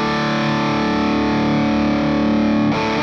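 Electric guitar played through a Garland SoT50 amplifier at low volume with extra bass dialed in, a thick distorted sustained tone ringing steadily for three seconds, a new chord change near the end.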